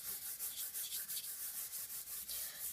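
An ink sponge rubs softly across Fancy Frost designer paper for card making, giving a quiet, steady run of short, rhythmic brushing strokes, close and alone.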